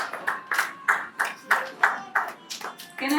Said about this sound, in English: Can I have a big round of applause for the producers